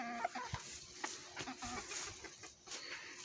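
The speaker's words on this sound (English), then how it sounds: "Now look at these chickens." Chickens cluck in short, scattered bursts at close range, joined by the odd sharper squawk, with no talking over them.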